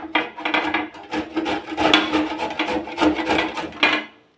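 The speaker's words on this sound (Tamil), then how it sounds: "இப்படி இந்த மாதிரி துருவி எடுத்துக்கலாம்." Raw mango rasped against a vegetable grater, a quick run of rough scraping strokes that is close and steady for about four seconds, then stops.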